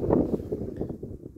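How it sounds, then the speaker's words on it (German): Outdoor wind picks up, a low muffled buffeting rumble against the microphone for just over a second, without clear speech. "Bisschen Wind kommt auf"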